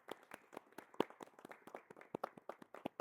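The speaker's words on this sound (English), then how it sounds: "Let's clap it up." A small group claps together at a linebacker coach clinic, a brisk run of uneven, fairly close hand claps lasting a few seconds, with no talking over them.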